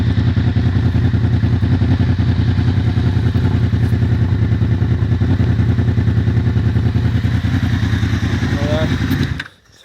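A Honda VFR motorcycle engine idles loud and close with no exhaust fitted, giving a raw, rapid mechanical chatter and clatter that runs steadily before cutting off abruptly at the end.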